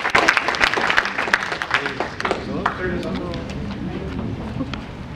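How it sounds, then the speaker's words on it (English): Audience applause at a business seminar, a burst of clapping from a room of people that is loudest at the start and thins into a softer patter, with some voices mixed in. "Surinder, let's give him a big round of applause"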